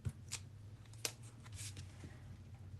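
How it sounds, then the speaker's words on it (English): A tape runner pressing adhesive onto paper in a papercraft project, heard as a few soft, brief scratchy rolls and clicks close by over a quiet low hum. "And then this one, I can just use a tape runner."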